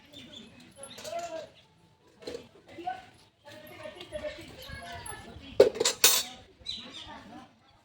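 Dishes being washed at home: clinking cutlery, pots and plates clatter in bursts throughout, with sharper knocks near the end, while someone talks over much of it.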